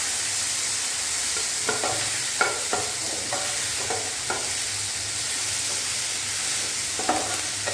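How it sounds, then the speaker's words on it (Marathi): Onion, tomato and curry leaves frying in oil give off a steady, bright sizzle, broken by several sharp scraping stirs of a spoon in the pan. "कांदा, टमाटर आणि कढीपत्ता हे चांगलं तेलामध्ये"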